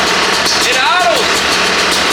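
A Yamaha YZ250 two-stroke dirt bike engine fitted with a Lectron carburetor idles steadily and loudly up close, with a continuous buzzing drone throughout.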